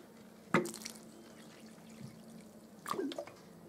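Water is poured onto soil in small hollows around seedlings, giving two short, close splashing trickles separated by quiet.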